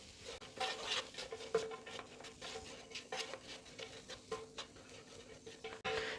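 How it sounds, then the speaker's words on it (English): A spoon mixes onion samosa filling with green chilies and salt in a bowl, making soft close scraping and tapping strokes in an irregular rhythm, with no talk. "Mix again."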